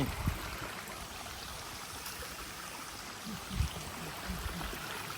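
A steady wash of rushing water, soft and continuous, like a waterfall heard from a short distance among rocks, with a few faint knocks.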